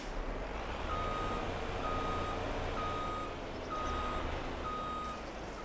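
Steady, evenly spaced reversing beeps ring out from a truck backing up in Farming Simulator 22, repeating about once per second over a constant engine rumble.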